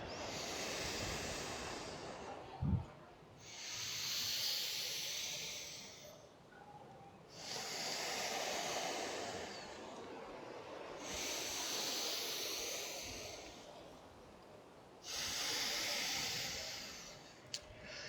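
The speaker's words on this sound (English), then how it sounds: "Inhale. Exhale." Slow yoga breathing during a gentle flow, with long airy inhales and exhales alternating in a steady rhythm of about five breath cycles, close and clear over a quiet room.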